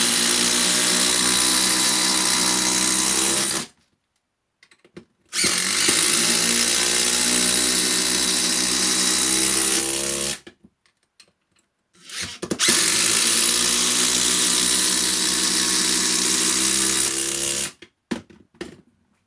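Makita 40v and DeWalt 18v impact drivers drive stainless screws in three loud bursts of several seconds each. Each burst is a rapid hammering whir, separated by short silences.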